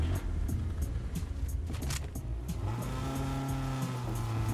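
A car driving off in the video game Fortnite, its engine droning and climbing in pitch as it accelerates, with clicky game sounds over the motor.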